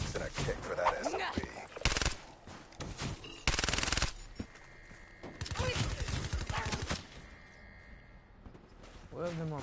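Vesper SMG gunfire in a video game, with short bursts of rapid shots cutting in and out around excited talking voices, loud and close.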